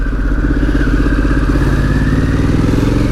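A Harley-Davidson Pan America motorcycle with 53,000 miles is ridden slowly on a slippery winter road, its engine thrumming loud and steady at close range, with a low, even pulsing rumble throughout.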